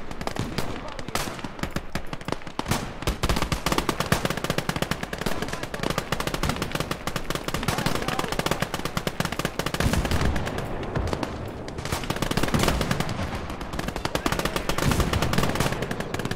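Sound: machine gun fire in a video game, Last Grenadier 1946

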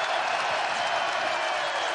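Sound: basketball arena crowd applauding and cheering

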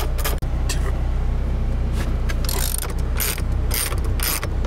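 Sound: ratchet removing 14 mm center console bolts

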